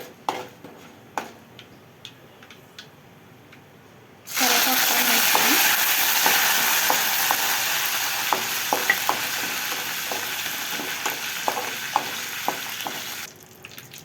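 Cumin and other tempering seeds hit hot oil with a sudden loud burst of sizzling partway through, after quiet stirring taps. The frying hiss holds steady, with crackles and utensil clicks, then drops off near the end.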